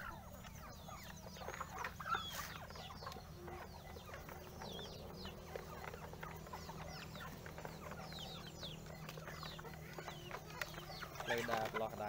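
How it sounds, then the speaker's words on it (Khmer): Hens clucking in a backyard chicken coop, with repeated clucks and short calls at moderate distance over a low steady background hum, and a voice briefly audible near the end. "បាទខាងនោះគឺជាទ្រុងមាន់របស់ខ្ញុំ"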